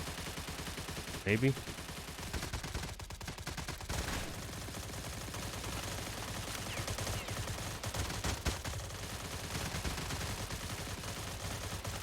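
HK G3A1 rifle firing full-auto in a zombie video game, with fairly slow bursts of shots that repeat through the stretch and a voice briefly talking over the gunfire.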